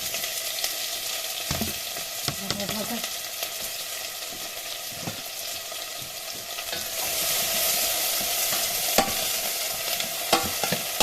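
Cumin and onions fry in a pan with a steady, loud sizzle and crackle, punctuated by occasional stirring scrapes and clinks; the sizzle grows denser and brighter in the second half as the cumin starts to burn.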